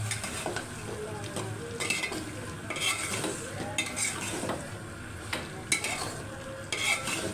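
Country chicken curry sizzles in a pan as a spoon stirs it repeatedly, with scraping strokes and clinks over a constant frying hiss, close and moderately loud.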